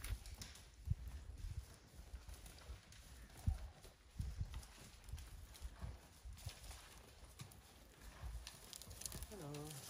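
Rented horses' hooves clop unevenly along the Pacific Crest Trail at a walking pace, with people chatting nearby and outdoor ambience throughout.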